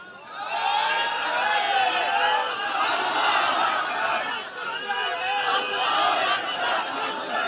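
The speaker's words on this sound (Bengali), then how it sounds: "সবাই একটু জোরে একজনে তাকবীর দেন তো দেখি" Large religious gathering of a crowd chanting takbir together, a loud, sustained mass of many voices shouting in unison with overlapping chatter, steady for several seconds.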